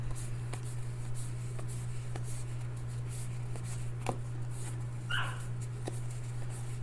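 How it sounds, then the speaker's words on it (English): A puppy gives a single short bark partway through, fairly faint against a steady electrical hum and scattered clicks and rustles of handling indoors. "I apologize for the puppy barks, guys"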